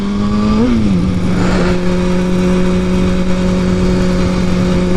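A motorcycle pulling hard in second gear while attempting a street wheelie, the engine note holding a loud, steady whine with a brief dip and recovery near the start.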